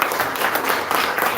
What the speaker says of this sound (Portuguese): Quem pode dar um aplauso bem forte para a vida